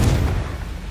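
A Confringo blasting spell detonates in Hogwarts Legacy, a loud, close, booming explosion with a heavy low-end thump that rolls on as a dense rumble for about a second.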